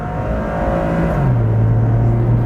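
A 1993 Suzuki Every kei van's small engine strains at full throttle on a highway, a steady close drone whose pitch climbs and drops as it shifts, with no talk over it.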